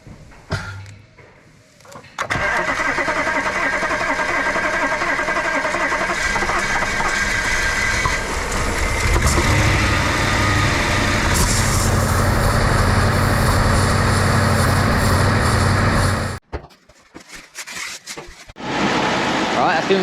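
Audi B8 RS5 V8 engine running steadily after an Eventuri carbon intake install, a loud, sustained rumble close by for most of the stretch before it cuts out near the end.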